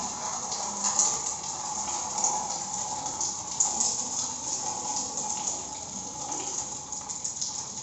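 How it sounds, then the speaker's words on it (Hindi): Ordinary water is poured in a thin stream during a static electricity demonstration with a charged PVC pipe. A continuous, splashing gush runs at a steady, fairly loud level throughout. "पानी डाल रहा हूँ।"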